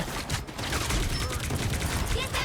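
Enemy gunfire in the hero shooter Marvel Rivals, a loud dense barrage of rapid shots and mechanical clatter that continues without pause, mixed with a player talking excitedly over it.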